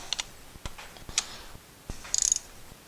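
Ratchet clicking while snugging a spark plug into a 10th-generation Honda Civic engine: a few sharp, sparse metallic ticks spread over a few seconds, followed by a short burst of rapid ratcheting clicks, fairly close and quiet.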